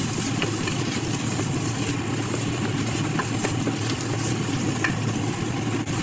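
Vegetables for peas pulao sautéing and being stirred in a pan, a steady close sizzle broken by scraping stir strokes, with no talk.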